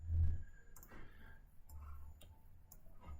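A computer mouse gives a handful of sharp, quiet clicks spaced irregularly over a low, soft background rumble, with no speech.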